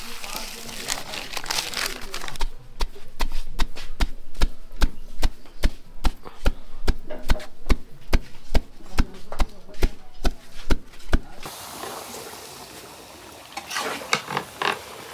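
Roasted spices pounded into powder in a village kitchen, a rapid, loud, even series of close rhythmic thuds lasting several seconds, with voices talking before and after.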